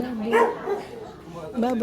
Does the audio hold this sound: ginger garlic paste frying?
no